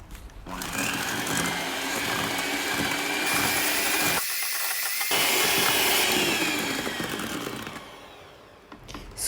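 Electric mixer beating butter cake batter in a mixing bowl, a loud steady close whir running throughout with a brief dip near the middle, no talk.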